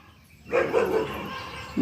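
Dogs bark in a village yard: a loud, close burst of barking midway, then another bark just starting at the end, against a quiet background.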